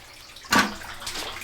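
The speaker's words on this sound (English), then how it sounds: "we let the water drain" Water sloshes and pours out the back of an aquarium tank being emptied, a brief close splash followed by a softer second trickle, with no talk over it.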